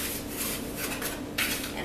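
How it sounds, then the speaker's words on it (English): A whisk scrapes and rubs through dry gluten-free cookie ingredients, flour with xanthan gum, in a bowl, a steady close raspy swishing that brightens near the end. "And whisk your dry ingredients to combine."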